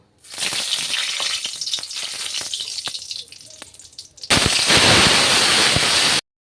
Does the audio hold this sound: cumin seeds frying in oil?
yes